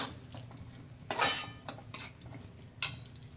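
Finely chopped tomatoes being stirred and sautéed in oil in a pan for prawn biryani, with scattered clinks and scrapes of a utensil against the pan, a couple of louder knocks, over a low steady background.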